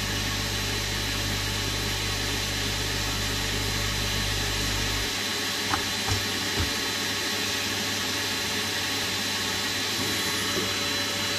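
A vacuum cleaner runs steadily off a portable power station, a continuous even motor hum that holds at one level throughout with only a couple of faint knocks partway through.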